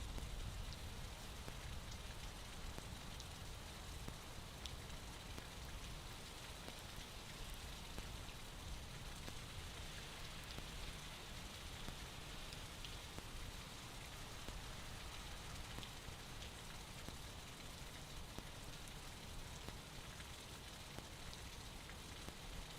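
Steady rain falling outdoors at Gerald R. Ford International Airport in Grand Rapids, a dense, even hiss of drops on surfaces that continues without a break and with no voices.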